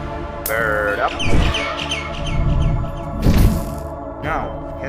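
Birds in Garten of Banban 6 give a few short chirps and squawks over a low droning game ambience, with louder thumps and bursts in between.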